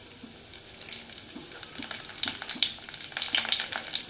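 Dried red chillies and curry leaves crackle and sizzle in a little hot oil in a small pan, a steady close frying hiss with sharp popping spatters that grow denser toward the end, with no talk.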